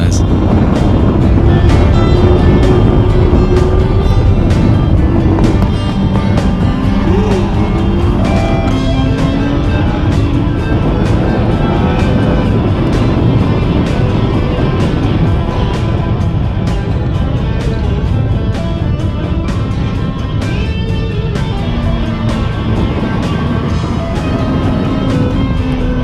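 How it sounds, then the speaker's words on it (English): Motorbike tyres being burned out hard on a track, one of the surviving Honda Blade, Kawasaki ZXR or Suzuki GSX-R sportbikes, engine revving steadily at high pitch over continuous loud roar and tyre noise with a narrator speaking over it. "And here's Jimmy not so cautiously warming up the tyres."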